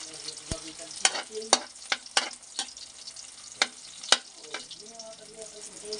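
Garlic and onion sauté in their own oil with a soft, continuous sizzle, punctuated by sharp utensil clicks and scrapes as they are stirred, some close and crisp.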